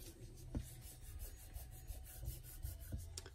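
A pencil eraser rubs back and forth over paper during a papercraft mini-album project, making a faint scratchy scrubbing in short repeated strokes with a few soft taps.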